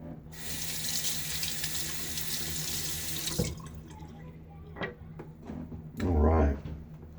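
A bathroom tap runs steadily for a few seconds as a razor is rinsed after a wet shave, then it stops, leaving faint clicks, knocks and a brief burst of talk.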